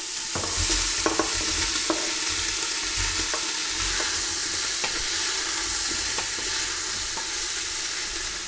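Sausages and smoked lardons frying in a pan, a dense steady sizzle and crackle with light scrapes of stirring recurring every second or so, close and continuous.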